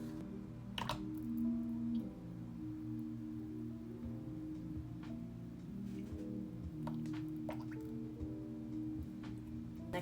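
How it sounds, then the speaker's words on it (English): Apricot oil trickles steadily into a container for a homemade rose and geranium facial serum, a soft continuous liquid pour with faint drips, close and quiet, with no talking. "Next up, I am pouring in my apricot."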